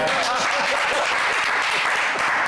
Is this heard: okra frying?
no